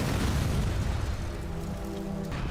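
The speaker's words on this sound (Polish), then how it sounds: "Tu dalej jest taka rozwałka, jasne gwinty, te wybuchy." Explosions in an animated Skibidi Toilet episode give a dense, continuous rumbling roar with heavy low booms that fade slightly toward the end, loud and without talk.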